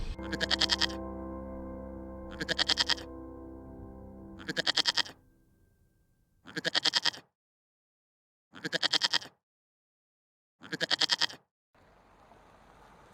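Goats or sheep from a shepherd's herd in the Kirthar Mountains near Khuzdar, Balochistan, bleat six times, loud, close and evenly spaced, with quiet gaps between the calls and a faint rustle at the end.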